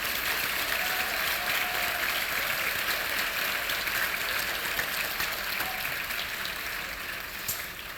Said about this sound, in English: Can we please have a round of applause for our final group of nominees?